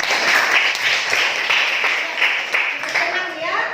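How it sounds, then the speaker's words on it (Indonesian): A class of eighth-grade students applauds in a school classroom, with dense, steady clapping from many hands close by that holds at an even level and then tapers slightly near the end. "Tepuk tangan untuk berkah."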